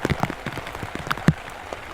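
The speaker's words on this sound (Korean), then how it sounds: "비가 내리면 습지는 살아난다." Rain falling on a mountaintop wetland, heard as scattered close drips and patters landing at an uneven rhythm, with one louder splash partway through.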